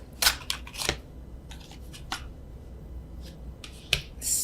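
Overhand shuffling of a tarot deck, with a few crisp card flicks and riffles in scattered bursts, close and fairly quiet, with no talking.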